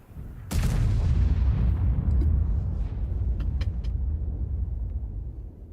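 A tank cannon fires once in an online tank battle game, a sharp loud blast followed by a long heavy rumbling decay with faint clicks, no voices.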